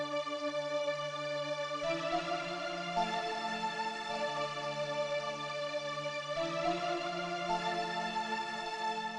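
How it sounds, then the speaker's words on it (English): A soft alpha pad synth lead from Alchemy holds smooth, sustained chord tones that shift every few seconds, gentle and steady at low volume with no voices. "But what I did was I added this alpha pad that I found in Alchemy."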